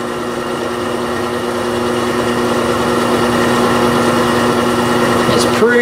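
A steady mechanical drone with a low motor hum and grinding texture, a cement drill slowly cutting through metal and slipping in the chuck, ending with a brief squeal.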